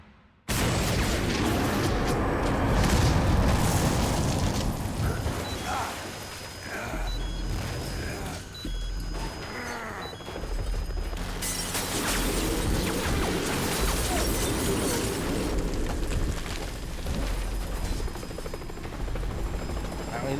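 Explosions and combat noise in Metal Gear Solid V, a heavy rumbling blast followed by continuous roaring din with crashes and a helicopter-like drone, loud and near throughout.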